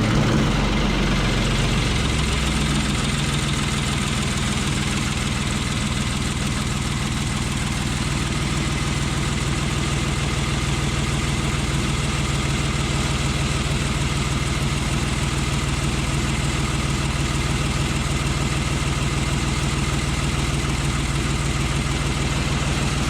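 A Ford 3000 tractor engine turns over and settles into a steady, loud low idle close by, its even throb continuing without talk for over twenty seconds.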